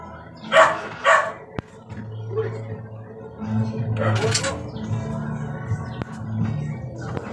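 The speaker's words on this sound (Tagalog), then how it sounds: "Mas matapang pa sa akin yung aso. Tinahulan pa ako" A dog barks nearby in a few sharp, loud bursts, two close together and another a few seconds later, with a person's voice and other low sounds in between.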